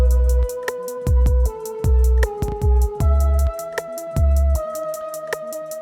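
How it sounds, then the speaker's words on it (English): An arpeggiated synth sequence from an Arturia CZ V Modular Sequences patch repeats the same notes in a steady rapid pulse over a deep bass line and heavy low hits in a trap-style mix. "that is basically created by an arpeggiator doing those same notes."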